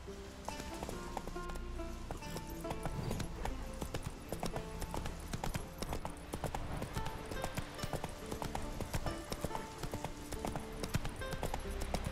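Hooves of the horse Roach clop steadily as it trots through The Witcher 3, a continuous rhythmic patter at moderate distance, layered over ambient game sound and music.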